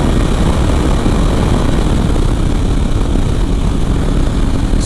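KTM 390 Adventure motorcycle fitted with a 47-tooth rear and 14-tooth front sprocket, engine still pulling hard in fifth gear at speed, a loud steady roar heavily blended with wind blast throughout.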